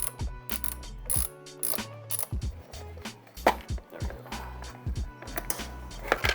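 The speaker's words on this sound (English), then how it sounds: "That's gonna take a 5mm Allen wrench." A 5mm Allen wrench works apart an OEM connector, making quick close-up ratcheting clicks in short irregular bursts with brief gaps between turns.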